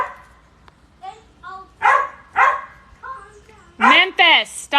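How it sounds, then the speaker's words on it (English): Border collie Australian shepherd mix barking and yipping at close range, several sharp barks in uneven bursts with whiny yelps between them. "He barks at everything."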